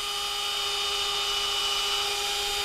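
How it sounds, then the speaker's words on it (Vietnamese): A compact Worx cordless drill runs steadily while boring a pilot hole, a continuous high-pitched motor whine with a sharp tonal edge that holds constant and close for the whole span. "Đây mình sẽ khoan cho anh em xem nè. Đây giờ mình muốn khoan mồi ha."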